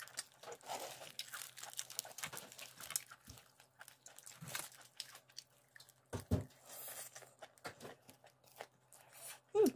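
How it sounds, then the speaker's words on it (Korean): Crunchy garlic fried chicken eaten up close, with irregular crisp bites, crinkling and chewing sounds at a low level, and brief quiet pauses between them. "갈릭 마왕을 한번 잘 먹어보도록 하겠습니다."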